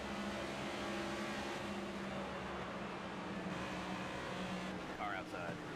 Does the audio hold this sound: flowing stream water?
no